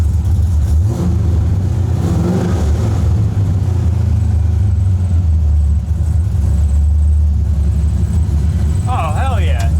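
A Mazda RX7 FC rotary engine idles loud and close with a steady low rumble, rising briefly in revs, while people talk over it; a short whistling squeal appears near the end.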